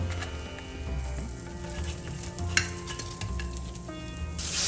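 Sabudana appe frying in oil in an appe pan, a close, continuous sizzle with light crackles and a brief scrape, swelling louder at the very end, with no talking.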